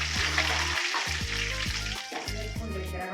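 Dried red chillies sizzling in hot tempering oil for tomato pickle, a steady loud frying hiss, heard alongside background music and no speech.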